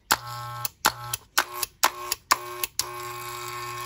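A freshly assembled Wahl Classic hair clipper in an older Wahl housing, on 127 volts, buzzes in a strong, even mains-hum drone, clicked on and off in about six quick bursts before running steadily.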